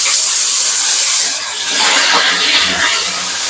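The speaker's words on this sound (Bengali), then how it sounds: "আলু দিয়ে দিচ্ছি তেলের উপরে। আলুটা একটু ভেজে নেব হালকা করে।" Loud, steady hiss and sizzle of potato pieces lightly frying in hot oil with bay leaf, a dense crackling spray of sound that swells and dips briefly midway.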